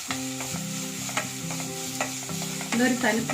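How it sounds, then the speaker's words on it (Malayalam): Shallots and chicken for a Kerala-style chicken thoran stir fry sizzle in a pan while a spatula scrapes and knocks in a steady rhythm. Soft background music plays underneath. "ഇനി നമുക്ക് ഇളക്കി കൊടുക്കാം."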